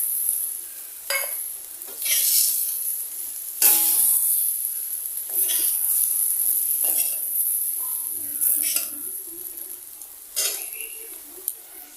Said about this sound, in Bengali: আলু বেগুন ভাজাটা এই যে দেখতে পাচ্ছ হয়ে গেছে